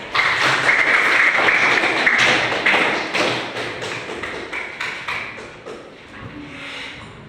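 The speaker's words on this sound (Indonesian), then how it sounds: "Tepuk tangan untuk teman kalian." Students in a classroom clap for their classmates in a burst of rhythmic applause that starts strong and fades over several seconds.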